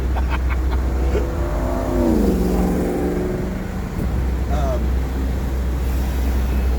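A Lamborghini Gallardo Final Edition drives along with a steady engine drone, briefly rising in pitch as it accelerates and shifts, heard from inside the car under ongoing conversation between occupants.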